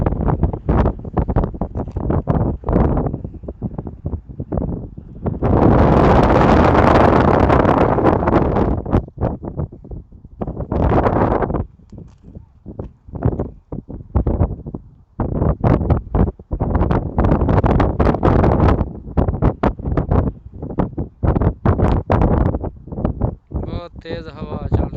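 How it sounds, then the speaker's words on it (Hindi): Strong wind in Unaizah, Al-Qassim, Saudi Arabia, buffets the microphone in loud, roaring gusts, with a person talking intermittently beneath the rumble. "तेज़ हवा चल रही है।"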